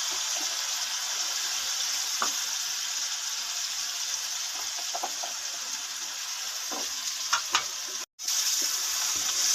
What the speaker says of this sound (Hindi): सारे मसालों को अच्छी तरह भून लेंगे, फिर इसमें हम टमाटर शामिल कर देंगे।